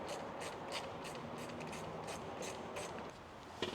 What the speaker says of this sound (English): Then we're just going to undo a bolt over here